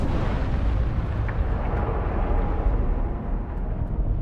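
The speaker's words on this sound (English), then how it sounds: "It looks like that guy's destroying ships again." A ship being blown up in the game Dune Awakening: a broad, rumbling explosion that roars steadily and heavily for several seconds, loud and continuous with no voices.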